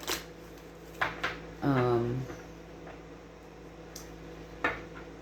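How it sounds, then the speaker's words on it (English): Tarot cards are shuffled in a few quick, crisp snaps and taps, spaced out over a quiet room, with a short vocal sound in between. "One more shuffle, please, and thank you."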